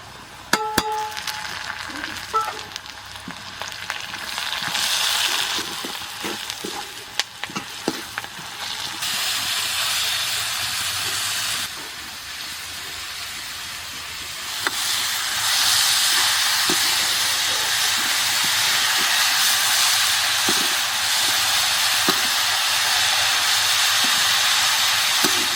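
Green chillies, turmeric and salt sizzle steadily in hot tempering oil for a saag, a continuous bright hiss that swells louder partway through, with occasional faint clinks of a utensil against the pan.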